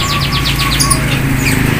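Songbirds chirp in quick repeated trills and tweets at a busy bird market in Indonesia, several calls overlapping close by over a steady crowd and traffic hum, with no talk.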